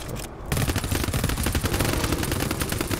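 Sentry guns in the co-op shooter GTFO fire in a dense, continuous automatic burst, loud and close, starting after a brief moment and hammering on steadily throughout.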